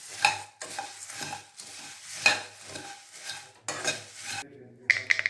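Puffed rice (pori) is roasted in a pan, the spoon stirring it in rhythmic, close-up scraping strokes with a dry rustle, ending with a few bright metallic clinks.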